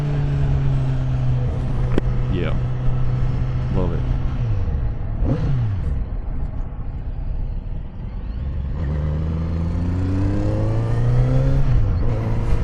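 A Kawasaki Z900RS motorcycle engine heard from the rider's seat with the helmet visor down, revving up and down through rising and falling pitch sweeps with a muffled wind-rush, while the rider speaks briefly.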